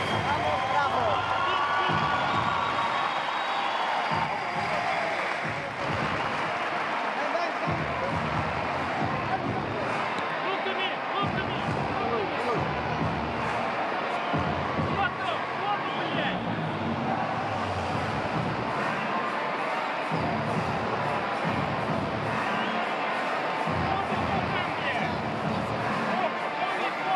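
A home crowd at a boxing match cheers for the Venezuelan fighter: a steady, dense roar of cheering and clapping runs throughout, with a commentator talking over it.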